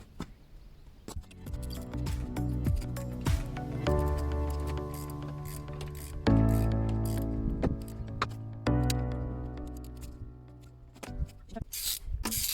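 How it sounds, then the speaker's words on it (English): Ratchet clicking and metallic tool mechanism sounds while removing the power steering pump from a Subaru engine, with repeated bursts of clicks and clanks close by, and no talking. "So now I'm just taking off the power steering pump."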